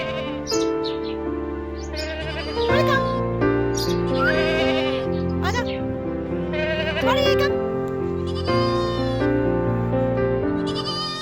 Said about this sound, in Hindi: ये दूर आप बकरियां देख सकते हैं, ये भी थोड़ी देर में नीचे यहीं पे आ जाएंगी